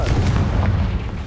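A Confringo fire spell bursts in Hogwarts Legacy, a heavy booming blast with a deep rumbling low end that holds steady across the moment, loud and close, with no voices over it.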